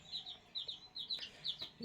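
Chickens and chicks in a village yard give soft, repeated high peeping chirps in quick irregular bursts, fairly faint, with a hint of low murmuring near the end.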